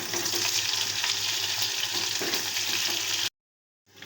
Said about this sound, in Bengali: এখানে ডিম ভাজি হচ্ছে